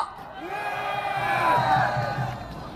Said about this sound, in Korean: 큰 함성으로 맞아주십시오.